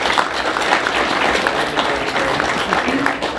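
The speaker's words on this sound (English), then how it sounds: "I want a big round of applause for that one." An audience at North Bend's State of the City address claps in a dense, steady round of applause that fills the room for a few seconds.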